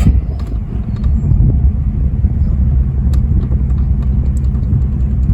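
A 1997 Jeep Grand Cherokee with low oil pressure idles while it is shifted from park into drive, giving a steady, loud, close low rumble throughout with no talk.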